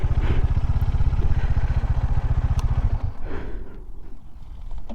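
Bajaj Pulsar NS motorcycle fitted with a modified aftermarket silencer, its loud, rapid low exhaust pulse thumping close by for about three seconds before fading into background street noise.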